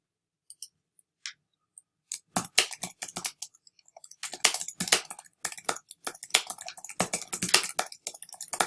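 Quick close keystrokes on a computer keyboard, starting with a few sparse taps and then settling into irregular bursts of typing with no talk.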